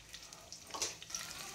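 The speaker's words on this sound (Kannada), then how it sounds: "ಈರುಳ್ಳಿ ಸಾಫ್ಟ್ ಆಗೋವರೆಗೂ ನಾವು ಫ್ರೈ ಮಾಡ್ಕೊಬೇಕು." Sliced onions fry in hot oil for an egg pulao, making a faint, soft crackle with small popping bursts. The sizzle stays quiet and close without any talk.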